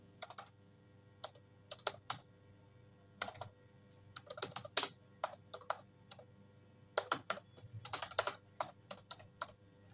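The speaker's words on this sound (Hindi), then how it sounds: "जैसे मैंने अपने चैनल का नाम यहाँ पर टाइप कर दिया है" Fingers type on a computer keyboard while working in Illustrator: quick, irregular bursts of soft, close key clicks with short pauses between runs, and no talking.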